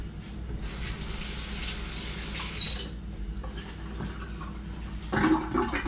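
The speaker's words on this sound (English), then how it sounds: "let me rinse off my hands and turn the camera off" Tap water running over hands being rinsed after cleaning and cooking fresh-caught stocked rainbow trout, a soft continuous splashing stream with a louder gush near the end.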